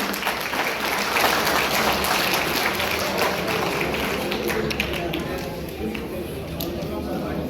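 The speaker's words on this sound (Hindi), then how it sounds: "कृपया तालियां बजाएं।" Dense, continuous applause from a crowd at a Haryana political rally runs throughout at an even, fairly loud level, with no clear break.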